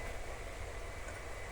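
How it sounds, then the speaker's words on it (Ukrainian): A faint, continuous grinding noise of a wire saw cutting granite drones steadily in the distance, rough and unbroken, with a windy hiss over it. "це тросом ріжуть граніт"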